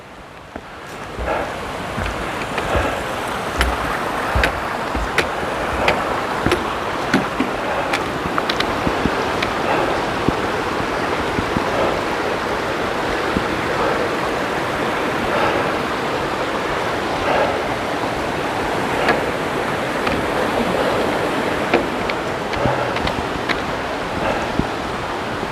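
A river rushes under a footbridge in the woods, a steady broadband roar of flowing water that stays loud and unbroken throughout, with some wind buffeting on the microphone.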